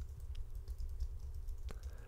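Keystrokes on a computer keyboard while text is typed into video editing software, a quick run of light, close taps with one sharper click near the end, heard alone over a low steady hum.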